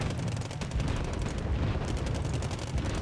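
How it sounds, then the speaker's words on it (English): In the video game Wargame AirLand Battle, counter artillery fire arrives as a rumbling barrage of overlapping booms and crackling impacts, fairly distant and continuous, with no voices. "Here comes the counter artillery."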